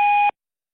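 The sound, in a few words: voicemail beep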